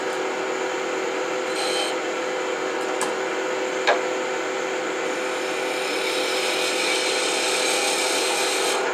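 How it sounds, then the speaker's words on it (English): A wood lathe spins as a chess piece is turned, giving a steady rough rubbing and scraping of the tool against wood, with a couple of brief sharp ticks along the way and no speech. "Turn the lathe off"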